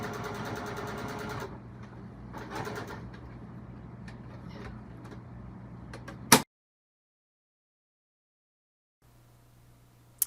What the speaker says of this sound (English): I'm just going to start stitching along